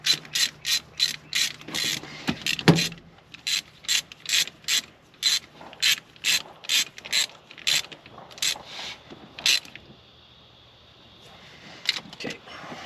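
Ratchet wrench turning bolts during a shifter install, a rapid series of close, crisp clicking bursts in a steady back-and-forth rhythm, pausing briefly before resuming.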